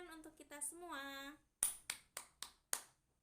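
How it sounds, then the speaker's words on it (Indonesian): In a fourth-grade classroom lesson, a teacher's sung voice is followed by five crisp, evenly spaced hand claps from one person, close and distinct, with silence between them. "Tepuk tangan untuk kita semua."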